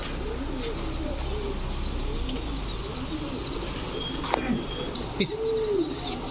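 A pair of green racer pigeons, a male and a female, coo in low repeated rolling calls against a constant background hum, with a couple of brief sharp chirps and wing sounds near the end.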